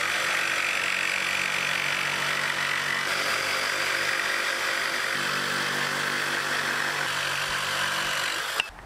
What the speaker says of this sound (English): let's just cut these bits of wood and see what they look like in the front